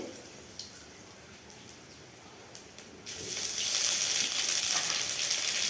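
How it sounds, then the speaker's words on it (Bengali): Two dried red chillies hit hot oil while cooking okra: after a quieter stretch with faint clicks, a loud, steady, bright sizzle bursts up close and keeps going without talk. "দুটো শুকনো লঙ্কা দিলাম তেলের উপরে"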